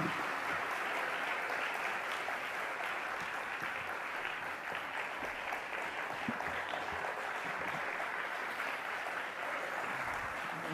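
Sustained audience applause fills a university auditorium, welcoming Ecuador's President Rafael Correa to the stage; steady, dense clapping from a large crowd continues without letup.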